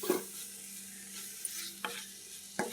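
Coarsely ground leaf paste fries in a pan with black cumin and is stirred, giving a soft continuous sizzle with a few distinct scraping strokes of the spoon, quiet and close with no voices.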